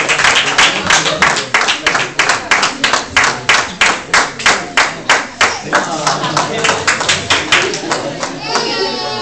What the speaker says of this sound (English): I would request all of you to applaud